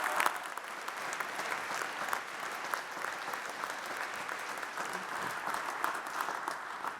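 A graduation investiture audience gives a round of applause for Master of Science recipients, dense even clapping from a large crowd in a hall, steady throughout the seven seconds.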